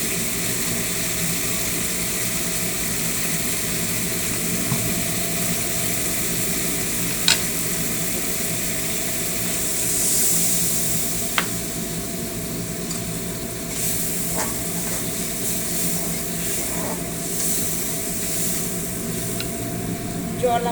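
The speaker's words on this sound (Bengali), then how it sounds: "জল আমার ফুটছে" Water simmers and bubbles with poppy seed paste in a cooking pan, a steady soft hiss and sputter with occasional clinks, fairly quiet and continuous.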